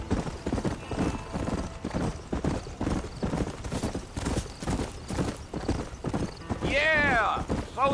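Horse hooves clip-clop at a steady trot in a western video game, close and rhythmic, with a horse whinnying near the end.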